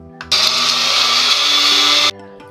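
A kitchen mixer grinder whirs loudly through one steady burst of just under two seconds while grinding curry leaves, then cuts off sharply.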